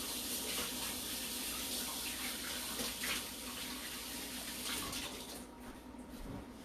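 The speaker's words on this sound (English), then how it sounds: "I am going to rinse my hands really quick." Tap water runs steadily into a sink as hands are rinsed in a home kitchen, a continuous close hiss and splash with no talking over it.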